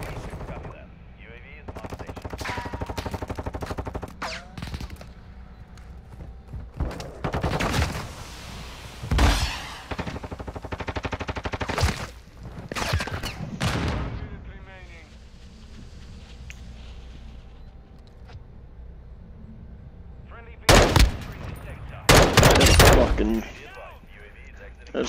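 Gunfire in Call of Duty: Modern Warfare II, with bursts of loud automatic shots and single cracks spread across twenty-five seconds, mixed with game effects while people talk throughout.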